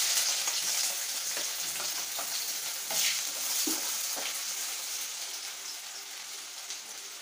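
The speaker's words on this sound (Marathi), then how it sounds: "कांदा तेलात छान परतून घ्यायचा आहे सोनेरी रंग येईपर्यंत" Finely chopped onion sizzles and crackles in hot oil in a kadhai, a steady close frying hiss broken by occasional stirring scrapes and pops, with no talking.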